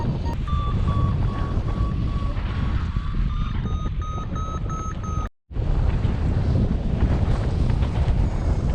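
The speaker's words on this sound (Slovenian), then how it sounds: "Močen veter je malo" Strong mountain wind buffets the microphone continuously during a paragliding hike-and-fly near Čaven, a loud low roar with steady gusts and a high electronic beeping from a flight instrument, briefly cutting out midway.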